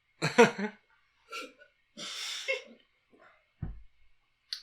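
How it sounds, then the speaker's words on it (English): Hiccups set off by eating hot sauce, a few short sharp catches in the throat with breathy bursts spaced across the moment, close and fairly quiet, with no talking over them. "It just makes me hiccup."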